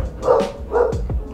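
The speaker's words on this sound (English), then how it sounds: "oh, you guys hear my dogs giving them hell out there?" Two or three bursts of dog barking from outside, somewhat distant and muffled, with short yelps between them.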